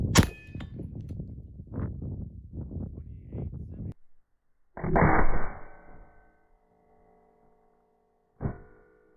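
A 7.62x54R armor-piercing rifle round strikes a steel plate with a sharp metallic clang that rings on, followed later by a second fainter clang; people talk in French at the start.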